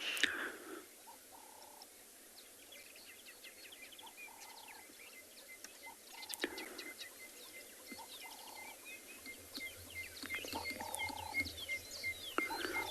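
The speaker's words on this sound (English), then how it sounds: "a large amount of birds have actually started becoming active again with a cooler temperature" Birds call intermittently at sunset in a quiet open South African safari landscape as the air cools, short repeated chirps and whistles at a distance over a soft, still background.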